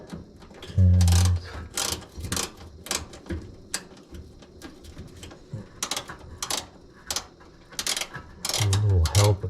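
A screwdriver turns a screw on the rear heat grill vent of a Samsung smart gas range, giving close, repeated ratcheting clicks in short bursts with brief pauses, and a few louder low knocks near the start and end.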